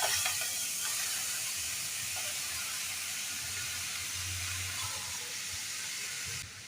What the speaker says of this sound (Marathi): आता इथे कढई तापून घेतली, त्याच्यात आपण स्ट्रॉबेरीचे तुकडे घालूया